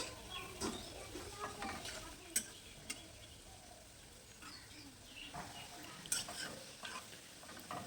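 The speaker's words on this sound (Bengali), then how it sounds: "এবারে এগুলো উল্টিয়ে দেব আমি তিনটে তিনটে করে দিয়ে কিন্তু এগুলো ভেজে নেব" Frozen chicken donuts fry in oil over a medium-low gas flame, giving a steady soft sizzle with occasional clinks and scrapes as pieces are turned in the pan; no voices.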